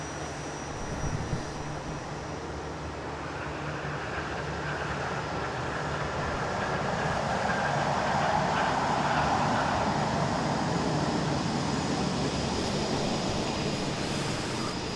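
A WestJet airliner lands on runway 24 left at Toronto Pearson airport on a morning, its engines a broad, steady roar that swells gradually and holds loud throughout, with no talk over it.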